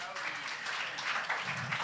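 Church congregation applauding, a steady wash of many hands clapping at moderate distance that holds for the whole stretch, faint and even.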